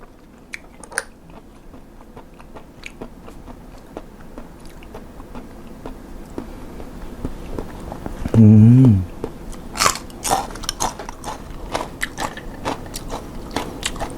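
Pickled blood cockles being eaten up close, with crisp bites and wet chewing crunches scattered throughout, one louder crunching burst near the middle, and a faint steady background.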